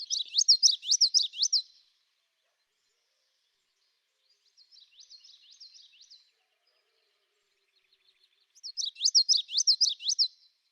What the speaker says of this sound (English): Here's the song of the yellowthroat.